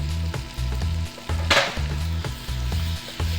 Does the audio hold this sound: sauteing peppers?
yes